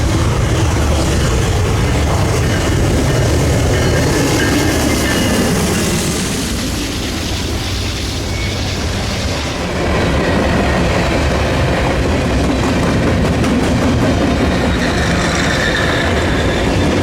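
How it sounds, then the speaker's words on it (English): A loaded sand freight train led by a full lash-up of KCS locomotives rolls past close by, giving a loud, continuous roar and rattle of rail cars with wheel clatter that holds steady throughout. "NS61F, a sand train, with a full KCS lash-up,"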